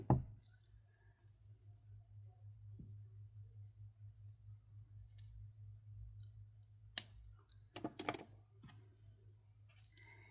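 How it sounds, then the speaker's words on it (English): A necklace is snipped with a few faint, close clicks, one at the start and a small cluster near the end, over a quiet low hum with no talking. "And then we're going to snip this part off."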